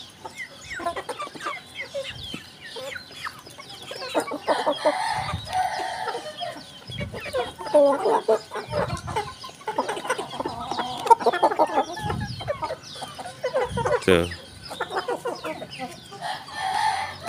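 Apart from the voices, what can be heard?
Bangkok chickens and roosters clucking and crowing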